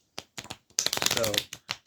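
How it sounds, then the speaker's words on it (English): Playing cards are shuffled for a magic card trick, with short riffled bursts and a longer close, crisp run of rapid flutters and taps. "make short shuffle like so"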